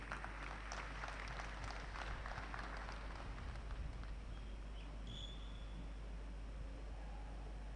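Conference audience clapping after a dignitary's address at a scientific assembly, a faint, steady wash of applause through a hiss-heavy hall recording with a constant low hum underneath.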